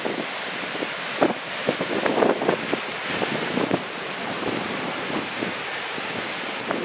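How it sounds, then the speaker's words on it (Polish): Strong coastal wind from Storm Ciara on the Isle of Man roars steadily and loudly, buffeting the microphone with broadband rushing noise and occasional gust bursts, with surf likely mixed in beneath; no one speaks. "A wiatr dopiero nabiera na sile."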